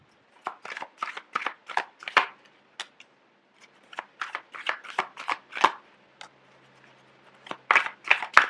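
Tarot cards being handled and shuffled make a series of crisp, close riffling bursts in quick clusters, with short pauses between groups.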